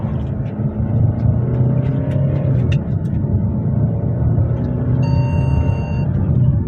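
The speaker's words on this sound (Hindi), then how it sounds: "और भी इसको थ्रॉटल दे रहा हूँ मैं" Kia Carnival Limousine Plus engine under throttle on a back road, a steady close low rumble from inside the cabin with a faint electronic tone chiming in near the end.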